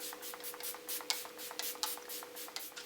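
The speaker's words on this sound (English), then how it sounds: "Now we're going to set my face with my favourite Quick Fix XX spray." Quick Fix setting spray misted onto a face, a series of short, soft pumped hisses in quick irregular succession, close and fairly quiet over a faint steady hum.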